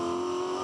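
V8 Supercar engine at full throttle on Mount Panorama, Bathurst, a brief loud steady roar with a sustained droning tone and no audible breaks.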